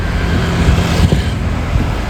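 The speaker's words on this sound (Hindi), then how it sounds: "देखो कितनी ट्रैफिक आई है एकदम से" Cars streaming along a Chandigarh road on a rainy night, producing a continuous close engine and tyre rumble with a slight swell as vehicles pass.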